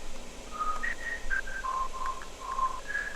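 Whistled melody in an electronic dance remix drop, a string of short clear pitched notes rising and falling over a soft beat backing.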